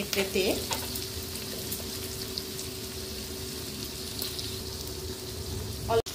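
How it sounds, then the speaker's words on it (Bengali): Onion and capsicum fry in a pan for a Chinese-style chicken and cauliflower dish, giving a steady, even sizzle throughout. A short spoken word comes near the start, and a sharp clunk sounds just before the end. "ক্যাপসিকামটাও হয়ে যাবে। পেঁয়াজটা হালকা ভাজা হয়ে গেছে।"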